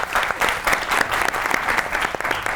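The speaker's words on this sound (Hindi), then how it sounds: "बहुत ताली होनी चाहिए भट्ट साहब के लिए" Studio audience applause on a comedy talk show, brisk and fairly loud with rhythmic surges of clapping throughout, no voices on top.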